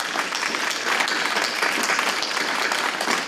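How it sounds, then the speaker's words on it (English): An audience at a university alumni breakfast applauds steadily, dense continuous clapping that fills the room at a loud, even level throughout. "So please join me in applauding our faculty and staff for that."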